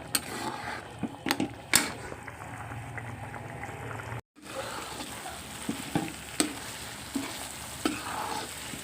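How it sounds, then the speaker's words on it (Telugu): Curry with small eggs simmers on a stove, making a soft bubbling and sizzling texture with a few sharp clinks and scrapes of stirring, brief and close, and a short pause near the middle. "మళ్ళీ ఉడుకుతుంది కూర"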